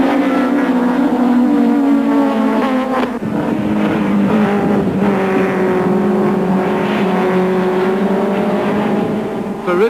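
Several touring cars roar past together in a dense, continuous engine drone, pitches shifting as they accelerate and change gear, tightly bunched, including Nissans, at the 1994 South African Touring Car Championship at Port Elizabeth.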